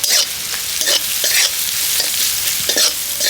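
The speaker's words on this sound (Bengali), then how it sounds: "এবার মশলাটাকে ভালো করে কষিয়ে নেব।" Spice mixture with green chilli, chilli powder and cumin powder frying in a pan, a loud continuous sizzle broken by repeated scraping stirs close up.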